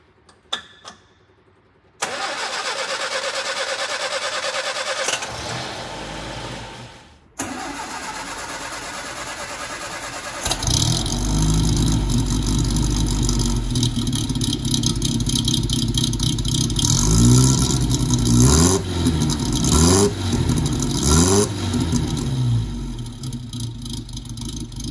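A classic MG TD is cold-started: starter cranking, then the engine catches and settles into a steady idle before several rising revs, loud and close with no talking.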